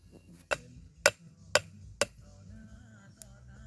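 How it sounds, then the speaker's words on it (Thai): A hammer drives old wooden stakes into the ground in a quiet outdoor setting: four sharp, crisp blows about half a second apart, followed by one fainter tap after a pause. "เบิ่งการตอกลักครับพี่น้อง"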